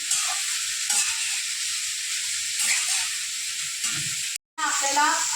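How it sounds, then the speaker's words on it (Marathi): Vegetables sautéing in oil in a pan over medium heat, a steady close sizzle with occasional stirring scrapes, briefly cut to silence near the end before the frying resumes. "या भाज्या आपल्याला चांगलं पाच दहा मिनटं त्या परतवून घेतल्या म्हणजे थोड्या शिजल्या पाहिजेत त्या भाज्या तेलामध्ये"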